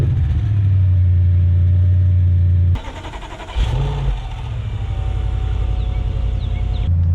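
An Audi A7 engine with a newly fitted valve-tronic exhaust cranks and fires up: a steady idle, then a sudden catch and deep rumbling revs that settle into a loud, close, throaty idle.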